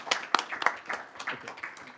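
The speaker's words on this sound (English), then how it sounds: "let's give Council President Hands a round of applause" Brief applause from a council meeting audience, a scattering of claps over about two seconds, fairly close and lively but thin, with no talk over it.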